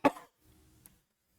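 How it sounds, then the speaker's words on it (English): A single short, dry, unproductive human cough, close and sharp, followed by a brief quiet rumble of movement and near silence. "The cough's not productive"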